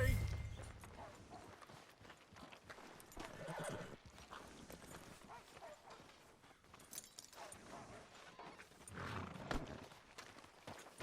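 Hooves clip-clop at a steady walking pace with a horse's whinny and snorts, set against a low ambient backdrop in the video game Red Dead Redemption 2; no one speaks.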